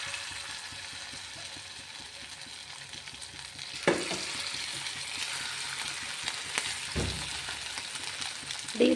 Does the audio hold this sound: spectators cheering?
no